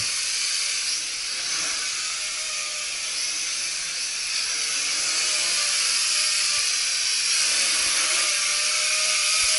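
Motors of a Nihui U807 drone, one of them weak, run indoors with a steady, loud, high-pitched whine that holds continuously throughout with no gaps.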